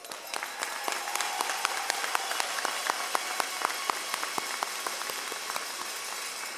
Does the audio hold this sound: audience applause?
yes